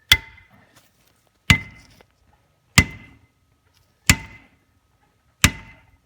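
A heavy hammer strikes a socket five times to drive out a pilot bearing, each blow a sharp, loud metallic impact with a short ring, spaced about one and a half seconds apart.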